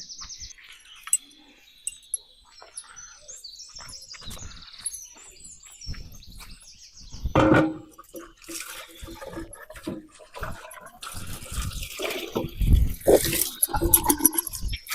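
Water running and splashing while chicken pieces are washed by hand, intermittent bursts of splashing and clatter that grow busier toward the end, recorded outdoors with faint bird chirps.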